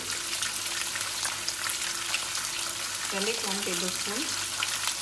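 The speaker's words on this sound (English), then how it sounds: "so we will saute this onion, garlic and ginger." Onion, garlic and ginger sauté in a pan for chicken masala, giving a steady close sizzle throughout with a brief spoken voice partway through.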